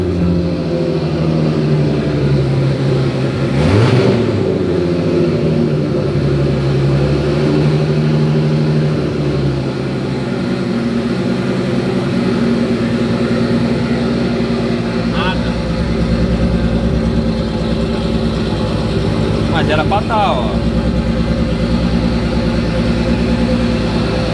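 A VW Golf MK3 VR6 4x4 with DSG gearbox idles steadily at a loud, close, constant drone for the whole stretch, with a brief rev blip early on and people talking over it.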